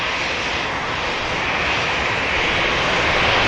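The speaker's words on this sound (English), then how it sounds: "Aer Lingus Regional, Emerald Airlines operated ATR for Belfast" ATR turboprop of Emerald Airlines, flying as Aer Lingus Regional, at Manchester Airport, its engines producing a loud, steady roaring drone that fills the whole stretch without pause.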